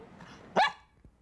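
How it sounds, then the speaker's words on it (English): One sharp, close bark from a dog performing on command, loud and alone in a quiet room. "He can add, subtract, multiply, and divide simply by barking the answers."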